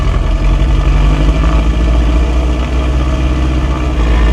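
A Piper Turbo Comanche's left engine is held at about 1700 rpm during a run-up magneto check, giving a loud, steady, close propeller and engine drone with no talk over it.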